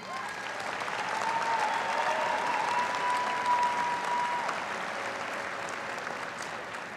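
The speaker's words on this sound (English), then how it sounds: "applause." Sustained, dense applause from a large commencement crowd at a business school convocation, an even wash of clapping that swells slightly and then holds steady for several seconds.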